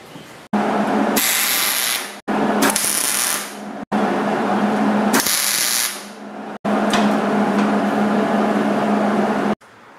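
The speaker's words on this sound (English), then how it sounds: "we're going to go ahead and tack weld it" Tack welding on an angle iron frame comes through as a series of loud, harsh buzzing arcs, each lasting one to three seconds and separated by brief silent pauses.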